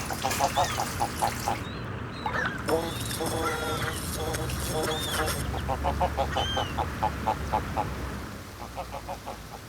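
Geese and ducks kept at a horse sanctuary honk and quack in repeated bursts, close and fairly loud, with calls coming in quick rhythmic runs and a short break midway filled by other chatter.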